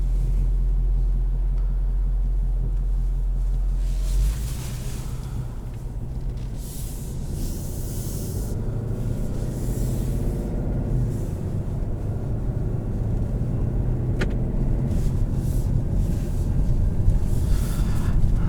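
A 2019 Ford Mustang GT California Special in Sport Plus mode gives a deep, continuous engine rumble from inside the cabin that slowly builds in loudness, with no talk.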